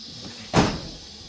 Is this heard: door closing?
yes